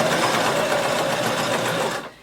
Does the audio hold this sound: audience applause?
no